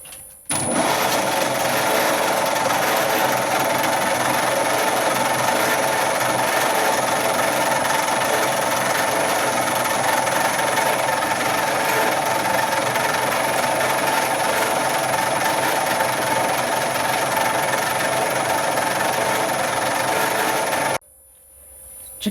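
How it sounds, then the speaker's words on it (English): A small lathe spins a cut-down steel bar while a centre drill cuts into its end, giving a steady, loud mechanical whir and hum for about twenty seconds, then stopping abruptly. "we're preparing to tap our M8 thread, so we'll just start with a centre drill."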